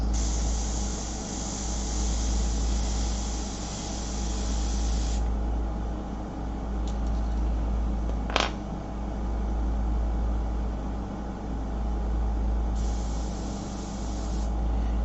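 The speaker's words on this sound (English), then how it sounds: "So now we're going to start working on some of these beautiful halftones." An airbrush sprays paint onto shellac-covered paper at lowered air pressure, giving a steady, close, continuous hiss that holds through the whole stretch, with one brief sharp click partway in.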